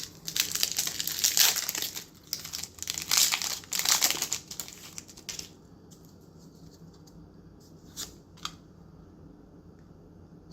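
Crinkling foil wrapper of a Magic the Gathering Aetherdrift play booster pack being torn open, loud close crackles for about five seconds, then quieter scattered rustles and a couple of sharp crinkles.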